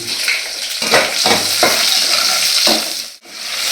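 Onions fry with mustard seeds in a hot pan, a close, loud sizzle broken by several scraping strokes of a spoon stirring through them, with no voices.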